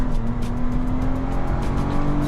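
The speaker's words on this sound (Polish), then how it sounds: "fajnie słychać dźwięk silnika" A 2016 Chrysler Town & Country 3.6 V6 engine hums steadily at a constant pitch, loud and close, with a low rumbling drone and road noise throughout.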